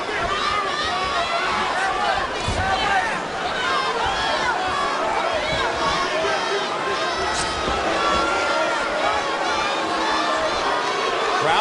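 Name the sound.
boxing crowd booing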